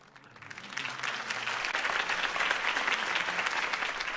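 A crowd at a political campaign rally in the Batman Telltale video game bursts into applause, swelling from a quiet start into sustained, dense clapping that continues steadily.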